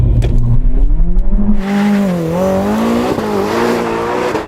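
A drag racer warms its tyres before the start: a low rumble gives way to a loud, sustained engine howl whose pitch swoops up and down, with tyre screech mixed in, close and continuous.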